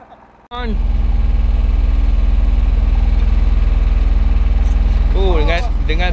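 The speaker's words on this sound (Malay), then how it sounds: "Dah start enjin dah." A fishing boat engine starts abruptly at sea and settles into a loud, steady idle, with a voice briefly calling out over it near the start and again toward the end.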